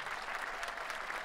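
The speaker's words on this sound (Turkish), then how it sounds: "Alkışlar mısınız lütfen?" Concert audience applause at a live pop show in Moscow, a steady wash of many hands clapping, moderately distant and even throughout, with no voices on top.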